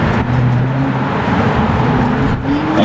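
A Nissan GTR race car roars past close by, its engine note loud and sustained with a rising pitch as it passes on a timed run.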